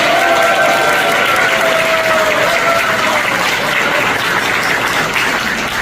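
Elderly audience members at a Korean youth leadership academy launch ceremony applaud for the young participants, a steady, dense wash of clapping filling the room from start to finish with no talk over it.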